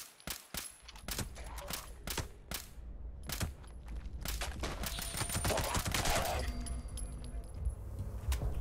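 Rapid gunfire from a gun in the online shooter Fallout 76, a quick string of sharp close shots and then a denser sustained burst of fire with mechanical rattles, loud and alone without talk.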